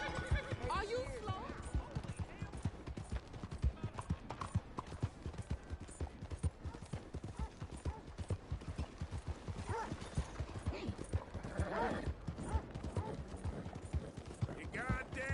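Horse hooves clip-clop steadily alongside repeated whinnying and neighing in Red Dead Redemption 2, a dense, continuous layer of game sound with voices nearby.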